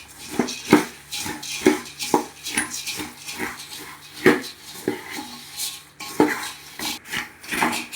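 Puffed rice for spicy masala pori tossed and stirred in a pan, a close series of irregular scraping knocks and dry rattles of the spoon against metal, uneven in rhythm and moderately loud.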